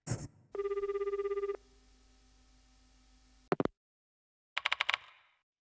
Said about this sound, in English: I pick up the phone in the infirmary and punch in the mansion's number